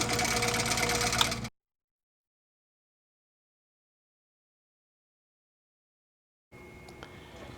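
A Tin Lizzie quilting sewing machine motor runs with a close, steady whirring hum, cuts out for several seconds of silence, then starts again at a different, quieter speed.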